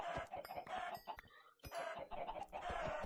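Many chickens clucking in Minecraft around a mob spawner, repeated bursty clucks overlapping in quick rhythm, loud and close, with a brief lull in the middle before resuming.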